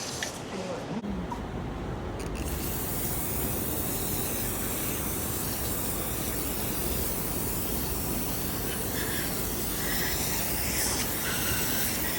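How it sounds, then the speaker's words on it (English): AMSOIL engine cleaning power foam spraying from a can onto a Silverado engine, a steady, loud hiss that runs unbroken for several seconds after a brief start. "Some AMSOIL engine cleaning power foam because it cleans everything."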